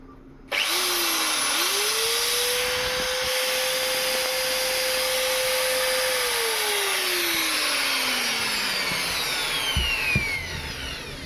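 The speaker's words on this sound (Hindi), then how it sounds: "यहाँ पे हमने ड्रिल मशीन को लगा लिया है, देख सकते हैं।" An electric drill spins up with a rising whine, holds a steady high motor tone for several seconds, then winds down slowly as it coasts to a stop, loud and close with no voices.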